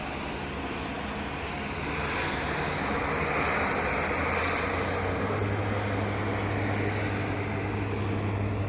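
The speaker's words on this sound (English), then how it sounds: "You got a seaplane." A seaplane flies over Juneau, Alaska, its steady engine drone building louder across the clip over a broad outdoor rush, with no talking.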